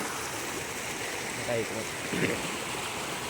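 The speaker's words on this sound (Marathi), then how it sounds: "बघा पाणी किती फास्ट पाणी झालं इथे, वळतंय बघा डायरेक्ट." Fast floodwater rushes across a farm field in a steady, loud broadband roar, with brief voices breaking through partway.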